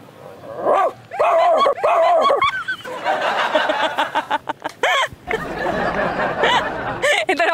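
A person imitates a barking dog with a string of loud, rhythmic bow-wow barks, followed by chatter and laughter from other people.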